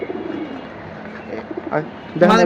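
Deep Blue Jabra Pankhi pigeons in a loft collection, soft low cooing close by, repeated in short murmuring phrases, with a person's voice cutting in near the end.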